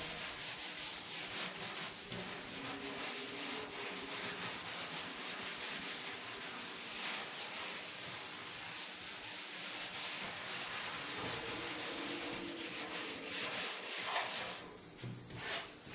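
Continuous close rubbing, a steady scratchy back-and-forth friction as a thin coating is worked into a classic car's paint, with no voices.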